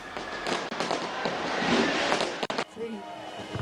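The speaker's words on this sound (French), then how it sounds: "Même ambiance festive en Nouvelle-Zélande avec les feux d'artifice qui annoncent le début de l'année 2026" New Year fireworks bursting over New Zealand at the start of 2026, a dense crackling wash with sharp bangs and a sudden drop near the end, heard under a crowd's festive noise.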